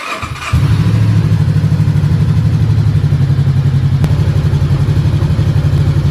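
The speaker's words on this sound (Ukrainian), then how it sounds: "Давайте ще раз спробуємо завести." A Voge 500DS motorcycle engine cranks briefly, then catches and settles into a steady, loud, close idle that runs evenly to the end with no talking.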